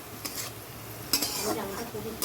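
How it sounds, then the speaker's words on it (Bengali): Onions fry in a pan for a chicken dish. A soft, steady sizzle runs throughout, with a few sharp clinks and scrapes as a utensil stirs against the pan, and no one speaks. "এখানে চিকেন করছি দেখো পেঁয়াজটা ভেজে নিচ্ছে"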